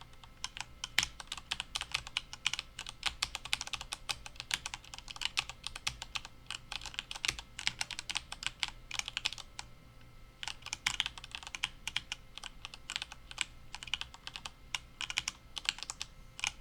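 Fast typing on a computer keyboard, dense bursts of crisp key clicks running almost continuously, close and clear, pausing briefly near the middle before resuming, with no voices.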